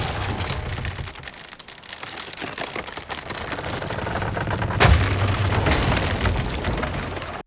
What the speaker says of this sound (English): now we'll show you how it sounds when a mast is falling.